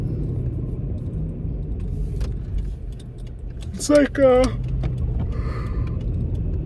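Inside a moving car, a low engine rumble and road drone run continuously while a person speaks briefly over it, with a short burst of vocal sound near the middle.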